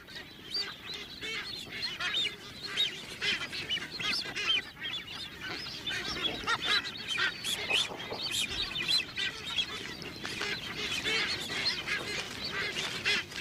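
A dense seabird colony of frigate birds and white boobies on the summit of Ascension Island keeps up a continuous chorus of overlapping harsh honks and squawks, steady and loud throughout under a windy outdoor wash.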